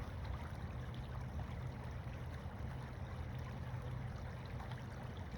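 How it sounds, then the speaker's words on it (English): Water flows steadily in a meandering creek in Atlanta, a constant low rushing that stays even and unbroken throughout, with no voices. "Can you hear the water?"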